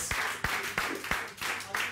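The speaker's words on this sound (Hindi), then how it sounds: "बहुत बहुत ज्यादा तालियां" Studio audience on a morning TV show clapping in a few sharp, rhythmic bursts, roughly one beat every third of a second, close and moderately loud.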